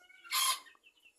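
A single short cluck from a native chicken kept with laying hens in an enclosed chamber, a brief bright burst standing alone in a quiet space.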